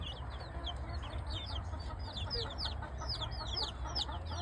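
Two-week-old native breed chicks peeping in rapid, high, continuous chirps around their hen, faint and steady against a low background rumble.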